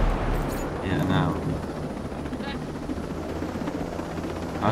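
Helicopter in the video game Ghost Recon Breakpoint, a steady loud rotor roar filling the background throughout.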